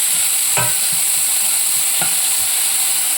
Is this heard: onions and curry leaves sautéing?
yes